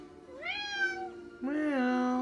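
A cat gives two drawn-out meows, the second louder and longer, close by with no talking.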